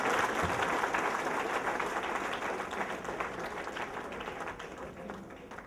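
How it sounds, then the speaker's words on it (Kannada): Loud, sustained applause from a large crowd greeting a political leader garlanded at a welcome ceremony, dense clapping holding steady for several seconds and easing slightly toward the end. "ಜೋರಾಗಿ ಚಪ್ಪಾಳೆಗಳು"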